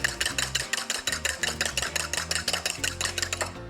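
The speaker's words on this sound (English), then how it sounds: "And give that a nice little whisk." Whisk beating a seasoned tuna mixture with two whole eggs in a bowl, a fast, steady run of close, bright clinks and scrapes repeating several times a second throughout.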